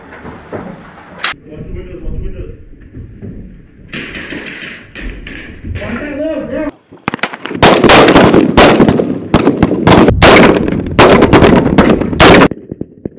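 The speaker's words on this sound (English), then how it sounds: "Missile away." Military missile launches during an Army air and missile defense exercise: a sharp blast followed by a sustained loud roaring rush that lasts several seconds, with voices heard talking earlier.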